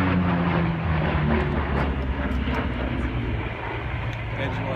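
A Grumman Bearcat fighter plane flies at the Flying Legends 2015 air show, its piston engine a loud, broad roar that fades slightly as it passes, with a commentator talking over it.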